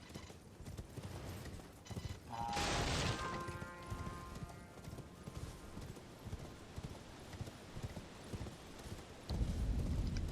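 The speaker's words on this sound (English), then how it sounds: "We're going to hop on a horse." Horse hooves clip-clopping at a steady gallop in the video game Elden Ring, riding through Limgrave, with a brief whinny near the start and game sound effects layered over the continuous hoofbeats.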